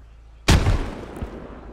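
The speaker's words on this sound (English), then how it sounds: "Oh, they called a mortar on Hovis. Oh, man. Grenades coming in." A single close, loud mortar or grenade explosion in the military shooter game Squad hits suddenly, then rolls off into a decaying rumble with a faint secondary thud.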